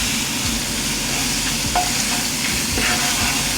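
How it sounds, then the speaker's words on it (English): Garlic paste fries in a pan for a fish curry, giving a continuous close sizzle and hiss with a few soft stirring knocks and no voices. "We're going to fry garlic paste"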